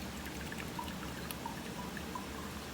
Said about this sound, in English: gonna pour the water in the top, and you'll be able to see what comes out in the bottom